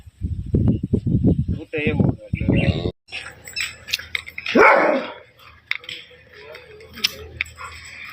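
Someone talks briefly, then a dog gives a short bark amid scattered chirps and rustling, with quieter background voices.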